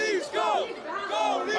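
Hockey game crowd cheering and yelling, a dense, loud roar with rising whoops and shouts that swell in two waves across a short stretch, close and continuous.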